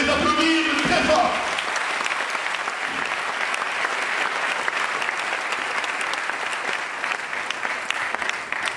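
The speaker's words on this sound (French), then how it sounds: "de les applaudir très fort." Sustained loud applause from a large crowd saluting delegates at an opposition political convention in Kinshasa, a dense steady roar of clapping that starts after a brief voice and carries evenly throughout.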